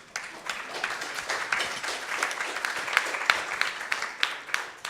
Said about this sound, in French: On peut l'applaudir, Jérôme Bois